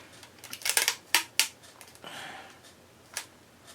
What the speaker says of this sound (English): what I'm going to do is take scissors